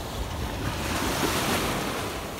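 Sea waves wash steadily onto the Crimean shore near Cape Tarkhankut, a continuous, close, loud surf roar with wind buffeting the microphone and no voices.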